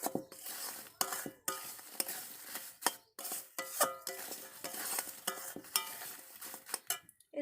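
Oil in a pan is stirred while cooking semolina koftas, with quiet scraping strokes coming in an uneven rhythm over a faint sizzle, close and without talk.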